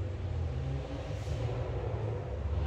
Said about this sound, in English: Kind of sounds like my buddy Matt in an SRT4